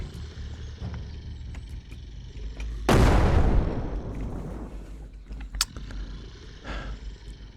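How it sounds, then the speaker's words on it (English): A grenade detonates in the zombie survival game Surroundead, a sudden loud blast that decays into a long rumbling tail, with ambient game noise and a later sharp crack. "What happens if we just give you a bit of a grenade treatment?"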